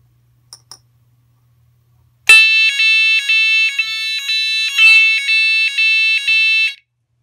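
A SAVE4 Type 4 230V fire alarm evacuation sounder starts abruptly after two faint clicks and blares a loud, piercing tone that pulses on and off at a regular beat for several seconds before cutting out.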